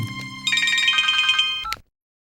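A telephone rings for an incoming call with a clear electronic melody of repeated tones, close and fairly loud, then cuts off abruptly as if answered.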